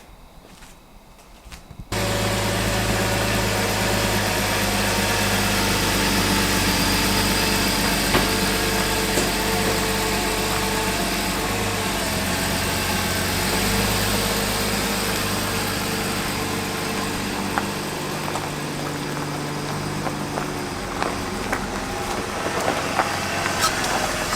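A BMW E36 engine with a new intake manifold and cold air intake starts and settles into a steady, low idle that runs on for twenty-odd seconds, close by and fairly loud, with a faint voice briefly.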